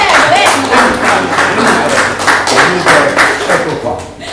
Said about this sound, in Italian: Un applauso, forza!